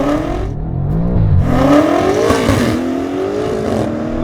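A 1000 hp BMW M5 launches hard in a drag race against a Porsche 911 Turbo S, its engine note climbing steadily through loud, close revving sweeps with a brief dip between gears.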